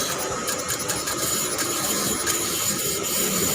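A tool scrapes carbon off the intake valve head in the cylinder head of a Kewee SIP 125 scooter, giving a steady, close, gritty rubbing and rasping with no talking.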